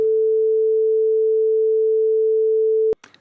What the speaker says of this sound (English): Now the next one is the inverted sine wave.